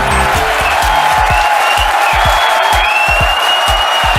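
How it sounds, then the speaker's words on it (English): A crowd cheers and applauds a Falcon Heavy booster landing: a loud, dense, steady wash of clapping and shouting with low rumbling thumps throughout. "Can you hear our crowd going wild?"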